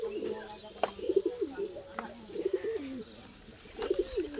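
A tipla pigeon in a loft gives repeated soft, throaty coos in short rolling phrases with brief pauses, close by, over faint background chirps and light room noise.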